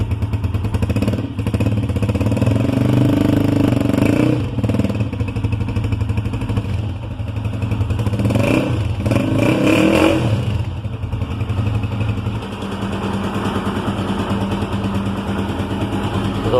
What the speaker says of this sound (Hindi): अब इंजन सिलेंसर का साउंड भी आपको दिखाते हैं